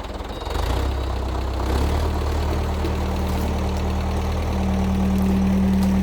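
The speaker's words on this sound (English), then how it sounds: "A grapple hooked onto the front end bucket of the backhoe." A backhoe engine runs steadily with a grapple fitted to its front bucket, a loud, continuous low rumble that holds throughout with no voices.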